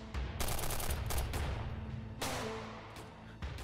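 Bursts of rapid gunfire crackle at close range, several volleys in quick succession with short gaps between them.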